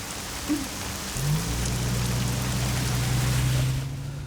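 Steady, fairly loud rainfall pattering on a surface, with a low hum rising underneath partway through.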